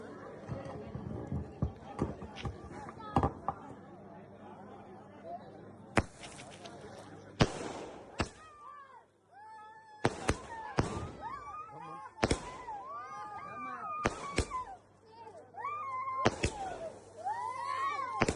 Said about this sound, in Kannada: final touch ಪಟಾಕಿಯಿಂದನೇ ಮುಗಿಸಿದ್ವಿ